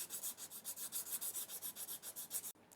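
Sandpaper rubs quickly back and forth over guitar fret edges, making a faint, even series of about twenty short rasping strokes that stop abruptly near the end.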